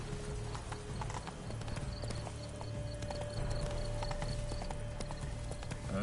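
Horse hooves in a video game clip-clop in a fast, steady galloping rhythm, close and continuous, with a brief whinny and ambient game sound underneath.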